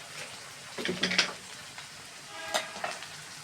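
Spices sizzle and fry in a pan as the base for a chicken salan, a soft steady crackle with a few louder bursts of stirring, close by and with no talk over it.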